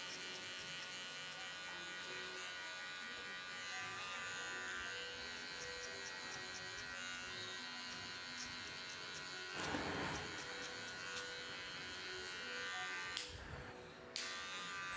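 An electric hair clipper buzzing continuously while cutting a mid skin fade, only its corner blade used: a close, steady high-pitched motor hum with slight shifts in tone as it presses against the head, and a brief rustle near the end.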